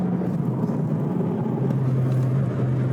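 A McLaren sports car drives along a London road, its engine a steady low hum heard from inside, constant and moderately loud with no talk.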